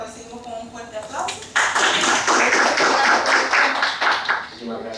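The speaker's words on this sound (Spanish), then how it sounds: "Bienvenido Juan Fernando, lo recibimos con un fuerte aplauso." A studio audience gives a guest speaker a welcoming round of clapping that starts sparse and swells into dense, steady applause lasting several seconds, with a voice talking beneath it.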